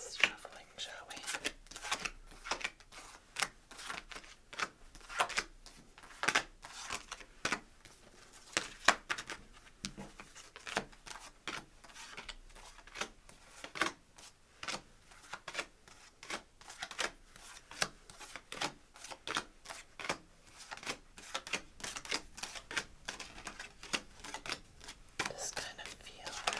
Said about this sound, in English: Time for a little chaos shuffling, shall we?